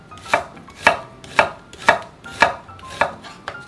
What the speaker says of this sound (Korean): 양파 반개는 채를 썰어주세요.